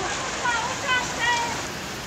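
Dense, hissing rain pours steadily, a continuous wash of drops drumming on a surface without pause.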